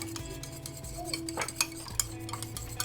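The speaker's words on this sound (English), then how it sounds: "I'm going to mix that well until it practically dissolves." A spoon stirs honey and ginger in a small container for a homemade face toner, with light clinks and scraping against the sides over a low steady hum.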